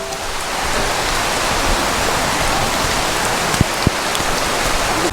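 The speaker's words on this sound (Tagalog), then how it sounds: "Ay, lumalakas na yung ulan." Heavy rain pours down in a steady, dense broadband wash, with a couple of sharp drip or knock sounds partway through and no voices over it.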